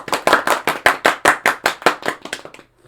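A small group claps in a steady rhythm, about a dozen sharp, close claps roughly every quarter second before stopping abruptly.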